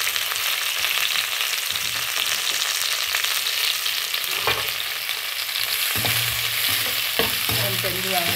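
Onions frying in hot oil for pepper chicken, a steady loud sizzle with occasional scraping stirs, no voices.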